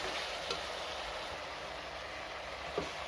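Vegetables sizzling in a hot pan for vegetable biryani, a low, steady frying hiss with a couple of faint knocks, close but quiet.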